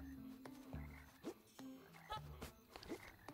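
Frog croaking in the video game The Plucky Squire, several short low croaks in a loose rhythm mixed with light game sound effects and chirps.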